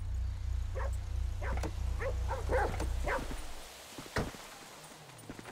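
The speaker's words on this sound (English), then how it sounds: "It's another doggy." A dog in Grand Theft Auto 5 gives a series of short, mid-distance yips and barks over a low rumbling engine drone that fades partway through.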